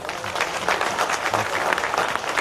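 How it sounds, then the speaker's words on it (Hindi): Dense applause from a large audience fills the hall at a religious darbar gathering, a steady broadband patter of many hands clapping for the full stretch, fairly close and loud, with faint crowd murmur underneath. "यदि आनंद आ तो ताली बजा दीजिए।"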